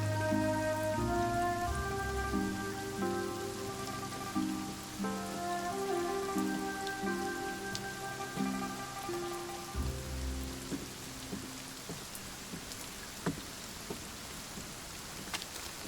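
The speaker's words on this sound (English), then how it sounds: "It's been raining for days." Steady rain patters on a surface with scattered heavier drops, while soft tonal music plays underneath and fades out.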